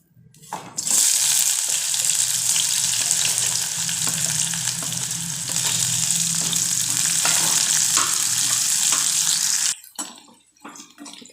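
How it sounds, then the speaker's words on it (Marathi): Onion frying in hot oil for matar paneer gives a loud, steady sizzle. It runs for roughly nine seconds and then cuts off abruptly, leaving faint clatter. "आता आपण कांदा फ्राय करून घेऊ"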